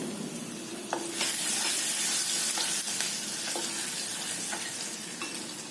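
Asafoetida and crushed garlic sizzle in hot oil for a guava curry, a steady bright crackle close by with a few sharp spatters and light stirring, no talking.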